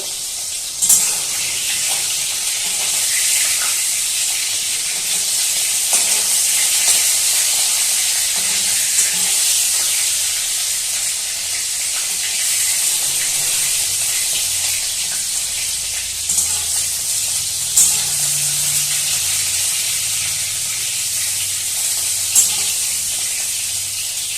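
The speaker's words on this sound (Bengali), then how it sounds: "এবার খুব ভালো করে এবার উল্টে পাল্টে ভেজে নেবো" Fish frying in a pan, turned over and over as it cooks, with a steady loud sizzle and hiss throughout, occasional clinks and stirring noises, and no talking.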